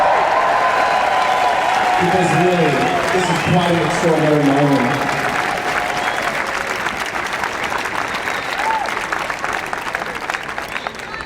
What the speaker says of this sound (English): So give yourselves a round of applause, guys